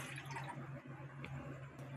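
Water saved from soaking sago is poured back into a pot on a gas stove. A quiet, short splash and trickle sits over a low steady hum.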